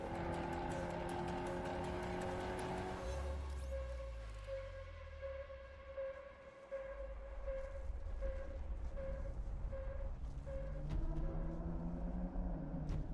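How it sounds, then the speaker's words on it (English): Dodge car engine with a Fratsonic exhaust, a loud, steady drone with a sustained tone and deep low rumble, dipping briefly midway before building back up over continuous motor noise. "the electrons being sent to the Fratsonic exhaust, sending hellish noises out the back loud enough to set off car alarms"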